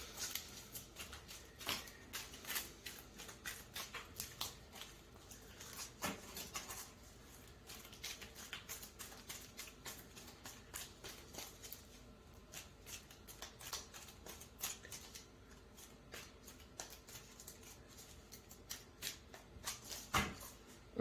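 A deck of game cards with blank white cards, used for an apprentice hero in a Myth board game setup, shuffled by hand, giving a soft, continuous papery riffling and patter with scattered sharper flicks, fairly quiet throughout.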